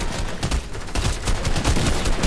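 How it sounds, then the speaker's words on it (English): Video game gunfire, including shotgun blasts, in a rapid, loud, dense barrage of overlapping shots that fills the whole stretch with no voices. "I got a shotgun."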